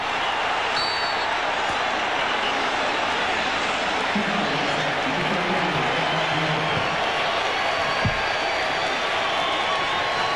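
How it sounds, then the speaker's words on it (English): Football stadium crowd at a 1996 Michigan at Colorado game roaring for a Wolverines touchdown, a dense sustained wash of cheering and noise throughout, with a commentator's voice faintly beneath. "Crowd getting into it."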